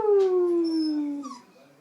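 A dog howls in one long falling wail, close and clear, with a brief higher yip near the end and no talk over it.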